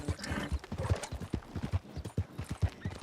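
A horse's hooves clip-clop in steady, quick rhythm in Red Dead Redemption 2, a close, distinct galloping beat with even spacing throughout, without speech over it.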